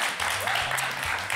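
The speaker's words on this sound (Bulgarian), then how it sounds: "Аплодисменти за Светльо!" Studio audience applauding on a Bulgarian TV quiz show as a contestant is welcomed, a dense steady wash of clapping filling the short moment.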